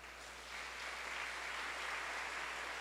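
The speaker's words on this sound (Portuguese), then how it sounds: "uma salva de palmas" Congregation at a New Year church camp service gives a round of applause, a soft, dense wash of clapping that swells slightly after the start and holds steady, faint and distant with a low hum underneath.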